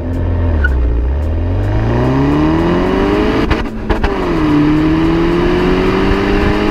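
A 2018 Peugeot 308 GTi engine revs up loudly through the gears, the pitch rising steadily, with a brief dip at a shift and a droning exhaust note.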